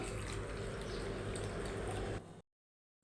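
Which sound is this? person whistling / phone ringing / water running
water running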